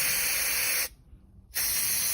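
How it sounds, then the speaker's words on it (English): Trim fix adhesive sprays from an aerosol can in two loud, close, continuous hissing bursts separated by a brief pause. "can of spray, and that will run down inside that crack"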